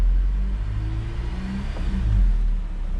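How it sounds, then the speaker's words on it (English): A car engine idles low and rises slightly to a raised idle during a home oil change, a steady close rumble with a gentle lift in pitch and no talking. "I wanna idle it up just a hair."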